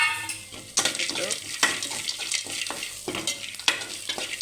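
Peanuts roast in hot oil in a pan for a semolina upma, giving a continuous crackling sizzle broken by several sharp stirring scrapes against the pan, close and fairly quiet.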